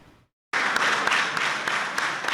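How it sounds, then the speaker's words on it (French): After a brief moment of silence, full applause breaks out for health care workers in Allada, Benin: a steady, close roar of many hands clapping with occasional sharper claps standing out. "Un tonnerre d'applaudissements pour les héros sanitaires d'Alada"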